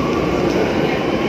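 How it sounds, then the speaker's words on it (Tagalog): Barcelona metro train rumbling steadily with a dense, continuous broadband roar, heard up close from inside or beside the carriage, with no break over the short span. "Ayan ang metro na sinasabi, guys. Para siyang LRT."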